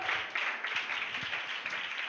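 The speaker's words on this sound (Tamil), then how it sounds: "இந்த கைத்தட்டு போதாதுன்னு நினைக்கிறேன்" Church congregation clapping hands during a Sunday worship service, a dense sustained patter of many hands that stays steady and fairly loud throughout, with no voices over it.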